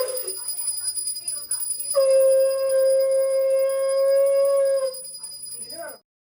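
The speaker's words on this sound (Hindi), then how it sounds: "वो भी सभी कन्याओं को तो घंटी बजा रही हैं।" During a Hindu aarti for young girls at a Navami Kanya Pujan, a bell rings with a steady, sustained metallic tone, while voices talk before and after it.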